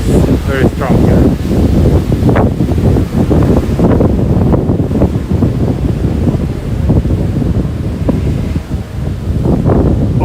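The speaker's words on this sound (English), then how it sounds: "the wind is very strong here." Strong wind buffets a phone microphone during an outdoor morning street walk in Tokyo's Futako Tamagawa, a loud continuous rumbling roar throughout with a person talking over it.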